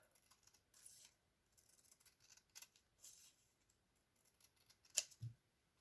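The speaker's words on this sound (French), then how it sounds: "Je ne sais pas couper droit avec des ciseaux" Scissors cut through paper for an art journal, giving faint, close snipping and rustling strokes in irregular bursts, ending with a sharper click.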